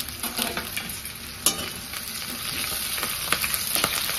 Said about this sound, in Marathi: आता आपल्याला ह्याच्यासोबत कांदा तेलात तळून घ्यायचा आणि कांद्यासोबत कढीपत्ता पण टाकून घेणार आहे